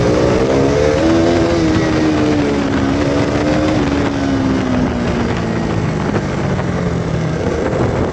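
A KTM Duke 200 BS4 motorcycle runs with its exhaust not fitted and the engine worn. A loud, steady close-up engine drone slowly sinks in pitch over several seconds, with wind rumble throughout.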